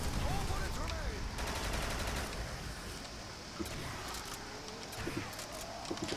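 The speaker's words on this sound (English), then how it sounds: "Is that like ray gun shots, but like on a bigger scale?" Rapid bursts of energy-weapon shots resembling a scaled-up ray gun in a Call of Duty custom zombies map, crackling over a dense backdrop of game noise while players talk.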